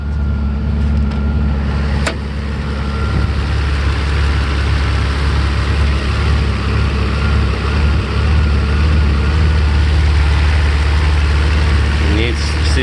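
A 1993 Mercedes 600SEC with a temporary muffler installed idles with a steady, deep low rumble close by, running continuously while someone talks over it.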